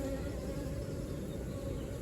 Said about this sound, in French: Ça me permet d'évacuer les abeilles